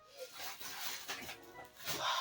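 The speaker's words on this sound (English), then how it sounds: "excuse the rustling sounds you're hearing me put stuff in the fridge" Soft, close rustling and rubbing of packages and objects being put into a fridge, fairly quiet and continuous, with no speech.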